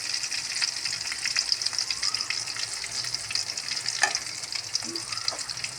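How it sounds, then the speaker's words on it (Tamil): Onions sautéing in a pan for a radish dish, a continuous close sizzle with occasional light stirring scrapes, steady and moderately loud without talk. "வெங்காயம் நல்லா கொஞ்சம் வதங்கட்டும்"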